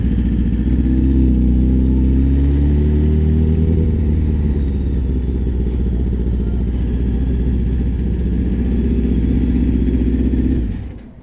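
A 2001 Kawasaki Ninja ZX7R motorcycle with a dirty fuel filter revs loudly and up close, its pitch climbing and falling in the opening seconds before it holds a steady drone and cuts off at the end.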